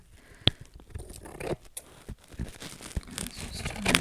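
Scissors snip at a paper napkin glued into a journal, giving a string of irregular, close crisp cuts and crinkles with soft rustling between them.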